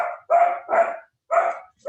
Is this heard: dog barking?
yes